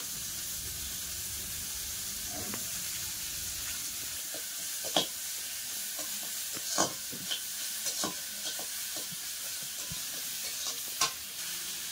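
Spices fry in oil for an egg curry: a steady, moderate sizzling hiss runs throughout, broken by occasional soft clicks and taps of stirring.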